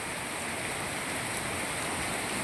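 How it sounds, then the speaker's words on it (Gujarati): Continuous, even rush of monsoon rain pouring down in Gujarat, a dense hiss with no pauses. "જેવો જોતો તો એવો જ વરસાદ ચાલુ છે અત્યારે"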